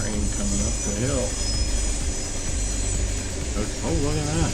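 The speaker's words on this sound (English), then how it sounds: "Sounds like we've got a train coming up the hill." A train climbing a hill, a steady low rumble and drone heard from a distance while a person talks over it intermittently.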